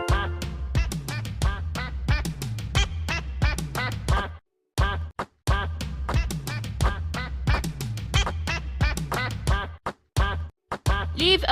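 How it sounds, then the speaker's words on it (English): A duck quacks over and over in a children's puzzle game, a loud, close run of rapid rhythmic quacks with two short pauses. "This is a duck!"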